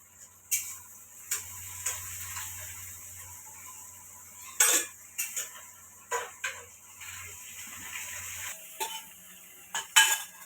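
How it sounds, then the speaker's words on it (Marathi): A spoon scrapes and clinks against a pot while dal is stirred after a tadka is poured in, with sharp intermittent metallic taps over a quiet background hum. "मस्त तडका दिला डाळीला"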